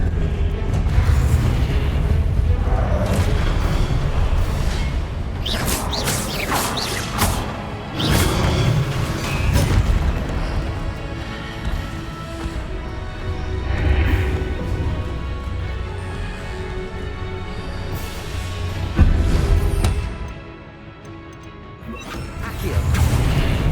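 Confringo blasting spell explosions in the Hogwarts Legacy video game, loud repeated crashing booms and whooshes in a dense, busy combat mix with no pauses.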